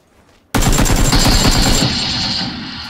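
Rapid shots from a Mini 14 rifle in PUBG burst in suddenly after a brief quiet and continue as a loud, dense volley of fire for the rest of the moment.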